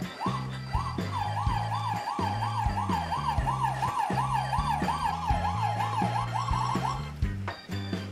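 A toy Bruder Mercedes ambulance plays an electronic siren from a roof button, a rapid repeating wail over a looping two-tone pulse that runs steadily for several seconds, close and fairly loud with no talk.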